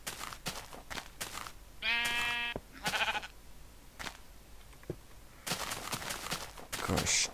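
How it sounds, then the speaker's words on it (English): A single wavering bleat from a Minecraft sheep sounds near the middle, surrounded by footstep-like game clicks and short bursts of talk. "Got a stupid sheep again."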